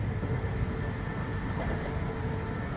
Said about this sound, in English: The train is still moving.